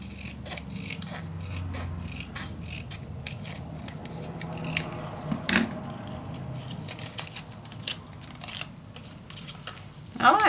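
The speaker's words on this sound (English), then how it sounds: "now let me cut these in 2." Scissors cutting UHK gallery papers in two for a Halloween mini album, heard as close, crisp snips and paper rustling, with a voice talking at times.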